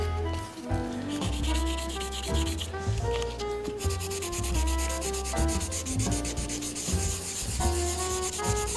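Aluminum is sanded by hand for a brushed finish, a continuous close rubbing rasp with rhythmic back-and-forth strokes that rise and fall in loudness.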